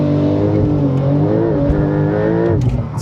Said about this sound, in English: Now we're at a stoplight in the Turbo S. I'm gonna go ahead and give it a little launch here.